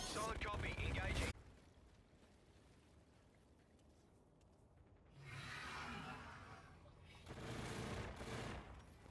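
Automatic gunfire from a military video game crackles in loud bursts, one at the start and two more near the end, separated by quieter stretches of background noise.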